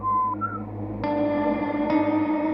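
Someone whistles while walking into a house, a clear tonal whistle that leaps between pitches, joined partway through by a sustained musical swell with echo.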